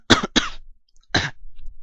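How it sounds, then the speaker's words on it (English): Three sharp coughs close to the microphone, two in quick succession and then a third after a short pause. "Sorry, little cough."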